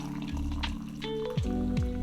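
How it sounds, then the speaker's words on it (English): Boiling water pours from a kettle over fennel seeds into a teacup, a short close splashing fill with a rising liquid tone, quiet and without talk. "And I'm going to pour my boiling water on top."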